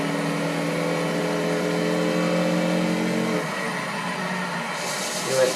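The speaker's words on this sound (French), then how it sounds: "on entame le premier tour avec cette Pagani Huayra." A Pagani Huayra's engine in a racing game lap on the Bugatti circuit at Le Mans: a steady, loud droning engine tone that shifts pitch partway through, with faint background noise.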